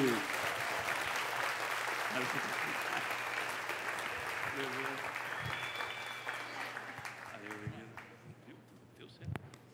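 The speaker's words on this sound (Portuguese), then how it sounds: "Vamos aplaudir o Senhor aí, gente." Church congregation applauding steadily through a worship service, a dense sustained clapping that tapers off toward the end, with brief voices and a tonal note over it.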